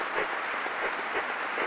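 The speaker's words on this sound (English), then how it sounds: "All applause for you" Audience applause at Westminster, a dense, even patter of many hands clapping, fairly faint and distant, steady across the whole short stretch with no voices on top.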